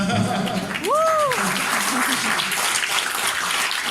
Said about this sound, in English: Let's give an applause to this man.